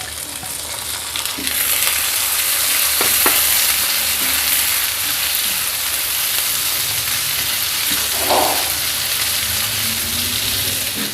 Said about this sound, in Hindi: अब हम इसमें डाल देंगे ये कुछ सब्जियां। मेरे पास ये है टमाटर, गाजर और शिमला मिर्च